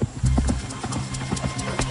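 Hooves clip-clop in a steady trotting rhythm, close and distinct, with a low rumble of movement underneath.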